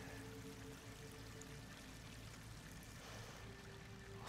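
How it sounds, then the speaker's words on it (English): Water pours into an enclosed chamber with slick walls in Horizon Forbidden West, a continuous rushing stream and trickle at a steady moderate level throughout. "Water's coming in."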